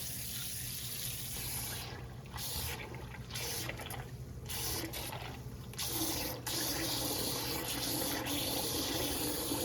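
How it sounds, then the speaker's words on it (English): Cool tap water running over canned beans being rinsed, a steady hiss of faucet flow with brief interruptions and splashing, close and quiet, no talk. "give it a rinse. Just doing it with cool water."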